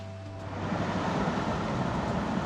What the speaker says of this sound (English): There's a waterfall up there.